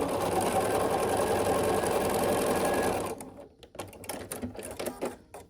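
A sewing machine runs steadily, stitching seams on a checkerboard star quilt block, a dense close whir for about three seconds, then stops and gives way to quiet handling clicks and rustles.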